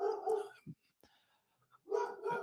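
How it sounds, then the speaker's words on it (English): Dog barking in a few loud, hoarse bursts at the start and end with a short gap of near silence between them, heard close by. "there's the doggy barking at shit"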